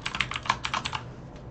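A short burst of typing on a computer keyboard as a function name is entered in a flowchart programming tool, about eight quick, close key clicks in an uneven rhythm that trail off, with no talking.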